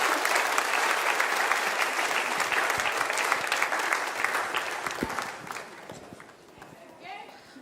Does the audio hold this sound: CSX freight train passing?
no